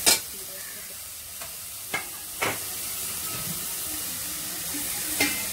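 Vegetables with green chilli and mint frying in a pan for kothavarangai soup: a steady soft sizzle throughout, broken by a few sharp scrapes and clinks of a spoon stirring against the pan. No talking.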